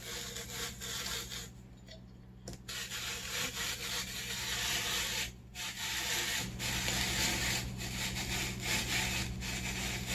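Hand-cranked 19th century apple parer peeling an apple, a continuous scraping, rasping rub with brief pauses and changes in pressure, close and steady throughout.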